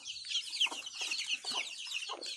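Chickens clucking at a chicken coop, several birds making quick overlapping clucks and chatter, fairly close and continuous.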